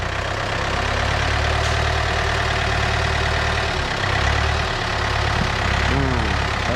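A Yanmar EF453T tractor engine, fitted with a dozer blade and plough, idles steadily with a loud, even low rumble and a constant mechanical drone, with faint shifts in tone partway through.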